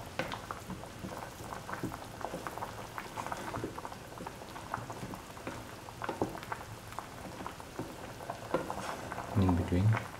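An okra and taro root stew bubbles over a high flame, a busy crackling simmer of small pops and bursts heard close and fairly quiet throughout.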